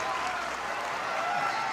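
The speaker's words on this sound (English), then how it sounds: "listen to the cheer from the Chelsea faithful" Chelsea supporters in a WSL stadium greet Sam Kerr's entrance as a substitute against Everton, a broad steady roar of cheering and applause sustained evenly across the moment.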